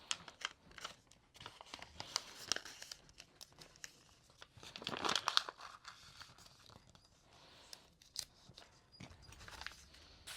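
Wrapping paper crinkles and rustles as a gift is wrapped, soft and close, in scattered bursts with a louder crumple in the middle, no talk.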